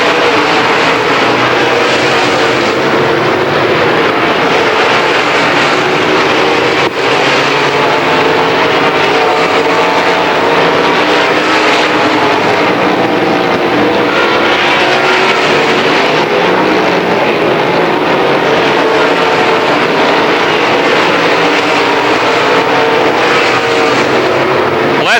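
Late model race cars roar around a half-mile oval at Penn National during a heat race, a loud dense unbroken engine drone from the pack passing continuously, with no speech.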